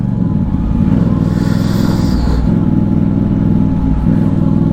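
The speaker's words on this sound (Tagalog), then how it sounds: "daming motor" Motorcycle engines drone and rumble nearby in steady traffic, one passing closer with a brief rise in noise.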